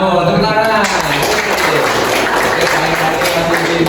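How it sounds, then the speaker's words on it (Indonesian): Loud, dense clapping from students in a classroom lesson, a continuous wash of hands with a voice briefly heard over the opening moments. "Tepuk tangan."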